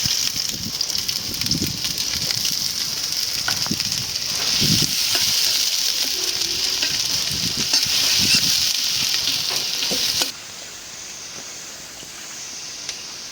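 Onions hissing steadily in hot mustard oil in a wok, a loud continuous sizzle with occasional stirring knocks, dropping to a quieter sizzle near the end, with no talk.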